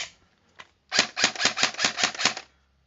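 A Centurion Arms CM4 airsoft rifle with a recoil system fires in semi-automatic, giving one lone early shot and then a fast, even string of about eight sharp mechanical cracks, close and loud, with no voices.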